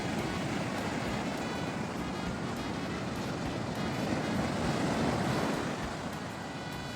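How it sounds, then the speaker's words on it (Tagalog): Waves crash and wash steadily onto San Juan beach in La Union at sunset, a continuous broad roar of surf with light wind noise and no talking. "Pakinggan nyo guys yung hampas ng alon sa Dalampasigan."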